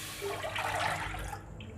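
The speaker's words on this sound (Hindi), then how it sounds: "तीली में 1/2 लीटर पानी डालूंगी" Half a litre of water pours into a pan for making sugar syrup, a short, bright splashing gush that swells and then tapers off, heard close and alone.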